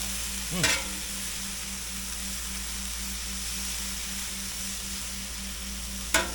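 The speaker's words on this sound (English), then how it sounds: "So just about put the veggies in there real quick. Go ahead and mix those in." Vegetables for a cheesesteak sizzle steadily on a hot cooktop, a broadband frying hiss with a couple of brief stirring scrapes near the start and end, no talking.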